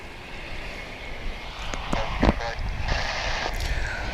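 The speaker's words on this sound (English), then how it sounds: "We have an American Airlines flight coming in from Las Vegas." American Airlines airliner inbound from Las Vegas landing at DFW International Airport, a low steady engine roar at a distance with a few brief louder swells, people talking faintly over it.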